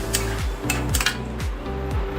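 Capsicum and paneer mixture being stirred into gravy in a metal kadhai, with a spoon scraping and knocking against the pan in a steady rhythm of several strokes, over a low continuous background hum.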